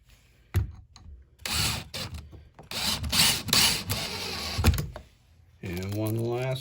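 Cordless drill driving screws into a loose door hinge in a home repair, with several short whirring bursts between pauses and mechanical clicks; people talk in between.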